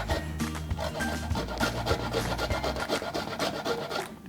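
Food is grated by hand on a metal grater in a home kitchen, a quick series of rasping scrapes in an even back-and-forth rhythm, close and fairly quiet with no talking.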